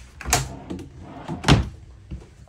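Dresser drawers in an RV bedroom of a 2022 Cedar Creek 40CBAR destination trailer being opened and closed, a few sharp wooden slides and knocks, with two louder thumps.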